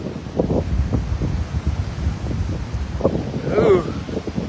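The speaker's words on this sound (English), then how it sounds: "Ooh, this is windy, yeah?" Wind buffets a microphone outdoors near water, rumbling and gusting unevenly throughout, with a voice speaking under the noise.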